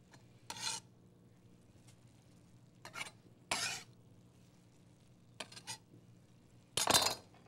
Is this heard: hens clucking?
no